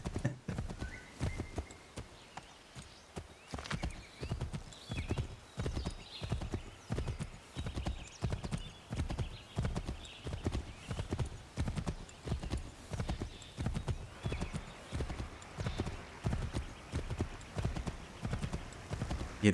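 A horse gallops through the streets of Boston in Assassin's Creed III Remastered, with steady, rhythmic clip-clop hoofbeats that stay close throughout and an occasional whinny.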